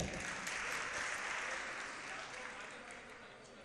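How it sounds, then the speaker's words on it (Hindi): Applause from a seated audience at a religious discourse, honoring a pandit: steady, fairly distant clapping that slowly fades, with some voices mixed in. "चलिए पंडित जी के लिए तालियां बजाओ।"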